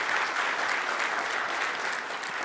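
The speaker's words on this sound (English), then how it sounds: "let's do another round of applause for Matt Harmon, everybody." An audience at a sports analytics conference gives a steady, dense round of applause, moderately loud and continuous for a couple of seconds.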